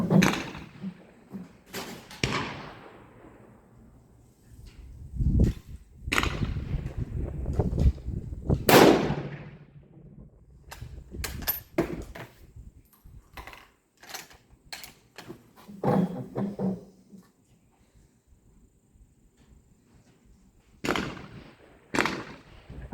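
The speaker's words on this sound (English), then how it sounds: "shots and see if we can improve the groups here" Shots from a Peruvian Mauser model 1891 rifle chambered in 7.65x53, a series of loud, booming reports at irregular intervals, each with a rolling echo, interspersed with quieter handling clicks.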